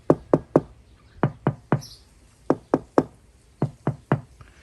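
Knuckles knock on fiber cement cladding board on a house exterior, giving sharp, hollow raps close up, struck in quick groups of two or three with short pauses between, about fourteen hits in all.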